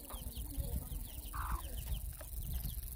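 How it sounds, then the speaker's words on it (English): Chickens cluck and chatter close by on a farm in Salima, Malawi, with short calls repeating over steady outdoor background noise. "chickens and babies"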